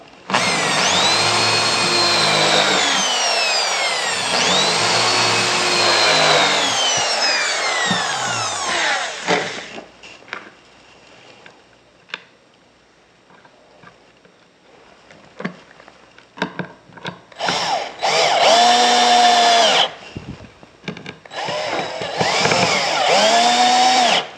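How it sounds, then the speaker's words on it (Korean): Power drill boring holes and driving screws into a wooden kid's desk top, long loud whirring bursts that rise and fall in pitch, separated by a quiet stretch of handling clatter before two more close, intense runs. "양쪽 건 맞추시고 드릴로 구멍을 2개 뚫고 박도록 하겠습니다"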